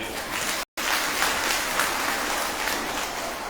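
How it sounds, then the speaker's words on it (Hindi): Applause from a political gathering's audience for the woman hosting the event, a steady broadband wash of many hands, moderately loud and fairly distant, with a brief dropout near the start. "इनके लिए जोरदार ताली बजा दीजिए"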